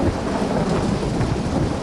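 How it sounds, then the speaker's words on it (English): A thunderstorm breaks out at an outdoor wedding in Glenrowan, with a steady, loud wash of heavy rain and rumbling thunder filling the whole stretch, no voices present. "It's a thunderstorm."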